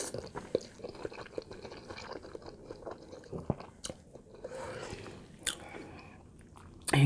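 Someone eats Ichiban ramen noodles in a big bowl, up close with a quiet background: soft irregular bites, chewing and wet squishy crunches scattered across the stretch.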